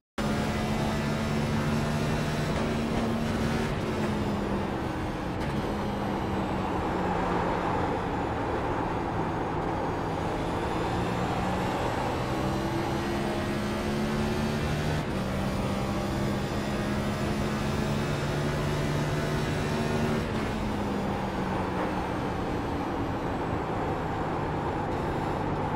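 A race car engine drones steadily through a full lap of Gateway in the iRacing simulator, its pitch rising and falling as it shifts, brakes and accelerates through the turns, loud and continuous with no talking.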